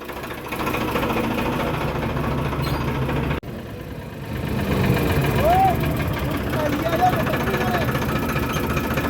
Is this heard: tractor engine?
yes